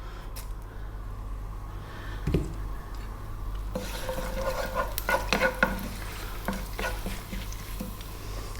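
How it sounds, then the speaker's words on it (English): Curry leaves sizzle in hot oil with dried red chilies in a pan for Mangalorean fish curry, a steady frying crackle with sharper pops and spatters bursting in partway through, close and with no talking. "We're going to add half of our curry leaves now."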